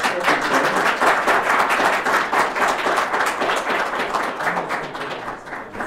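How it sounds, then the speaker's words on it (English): A seminar audience at a headphone show claps, a loud burst of many hands with distinct individual claps standing out, gradually thinning and fading toward the end. "So uh, please give a round of applause to our"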